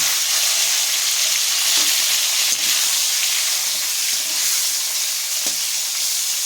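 Flat beans hiss loudly in hot oil tempered with five-spice, a dense, even frying roar with a few faint knocks from stirring.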